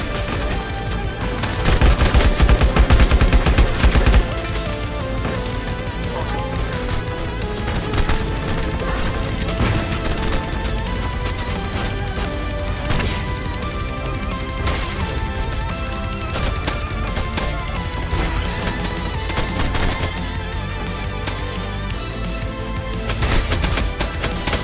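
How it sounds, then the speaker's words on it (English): Rapid gunfire in the mobile shooter LifeAfter during a team match, dense overlapping bursts and shots with crashes, a heavy thump early on, continuous and loud throughout. "Shoot, just shoot the red enemy."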